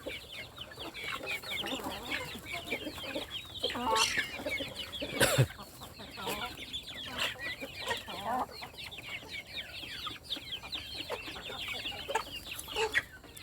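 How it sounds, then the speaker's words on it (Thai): Free-range native chickens, bred from fighting-cock stock, clucking steadily in a busy flock while feeding in the morning, overlapping calls close by with a brief louder squawk midway, no talking. "ไก่บ้านกินอาหารตอนเช้า"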